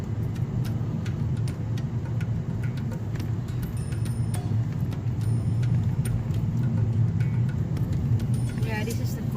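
Automatic car being driven during a driving lesson near a lake, a steady low engine and road rumble with occasional ticking from inside the cabin, continuous and close.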